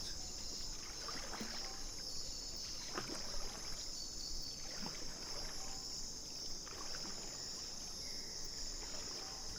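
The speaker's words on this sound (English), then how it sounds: "Slow current helps to carry you forward, and you only need to use the paddle a little, more for steering than propulsion" Canoe paddle dipping into slow river water in the Amazon jungle, gentle splashes and drips recurring every few seconds against steady insect and cricket buzz from the surrounding forest.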